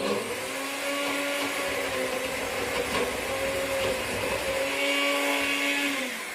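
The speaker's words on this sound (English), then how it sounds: "So we're going to blend this up." A kitchen blender whirs continuously and loudly up close, its motor pitch shifting slightly as it blends a peanut butter mousse.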